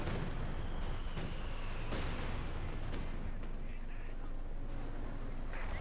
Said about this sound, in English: There's a repulse by Katyusha fire.